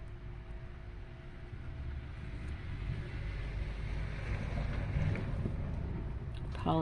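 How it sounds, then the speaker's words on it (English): Street traffic drifts in through an open door on a warm evening, a steady low rumble of passing vehicles that stays faint and distant, with a slight swell near the end. "Apologize for the traffic. I have my door open tonight."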